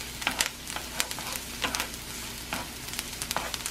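Vegetables brown in a hot pan with a close, steady sizzle, punctuated by sharp crackles and pops.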